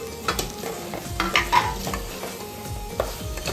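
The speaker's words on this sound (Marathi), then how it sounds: "मटण आपण ग्रेव्हीमध्ये पूर्ण मिक्स करून घेतलं आहे" A spoon scrapes and stirs mutton and potatoes through thick gravy in a pressure cooker, with soft intermittent clanks and a faint sizzle underneath.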